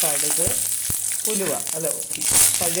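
Mustard seeds, urad dal, dried red chillies and curry leaves sizzle and crackle in about two spoons of hot ghee in a pan for an upma tempering, with a steady close frying hiss and sharp pops, and no talk.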